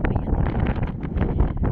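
Strong gusts of wind hitting the microphone, producing a continuous low rumble with fluctuating bursts across the whole clip.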